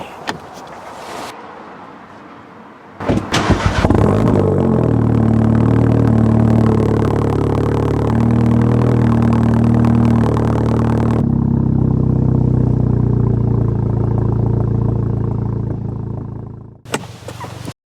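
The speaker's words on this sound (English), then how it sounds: "turn it on, and I'll let you hear how it sounds on a cold start with the valves open" Audi S3 8V with an XForce valved non-resonated catback exhaust, valves open, cold-starting with a sharp loud crank and flare, then settling into a steady, deep, booming idle close by for several seconds before quieting.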